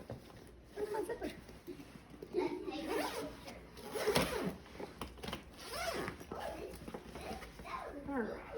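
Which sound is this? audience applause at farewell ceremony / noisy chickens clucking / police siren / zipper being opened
zipper being opened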